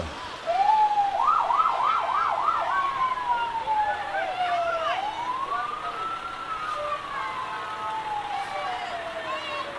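At an Independence Day parade in Chautauqua County, a volunteer fire company vehicle sounds its siren: a few quick whooping yelps, then a long slow rising and falling wail, fairly near over crowd noise and chatter.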